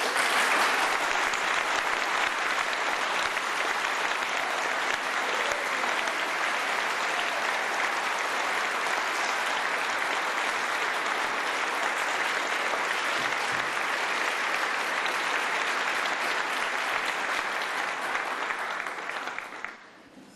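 A lecture audience applauds steadily as David Ray Griffin is welcomed, dense sustained clapping for about twenty seconds that fades out at the end.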